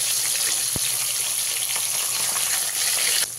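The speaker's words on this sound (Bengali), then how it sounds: "গ্যাসের ফ্লেমটা এই সময় মিডিয়ামে রেখে মাছগুলোকে ভেজে নেব।" Pieces of katla fish fry in a pan over a medium gas flame, giving a loud, continuous sizzling hiss throughout with a single sharp tap early on and no talking.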